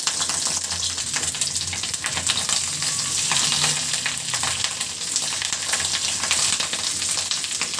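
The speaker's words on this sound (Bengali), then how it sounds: "একই কড়াইয়ের ভিতরে সিদ্ধ করা মাছের ডিমগুলো ভেজে নিব" Boiled fish roe frying in a wok already used for frying eggplant, a loud continuous sizzle close up with occasional stirring and scraping, no one speaking.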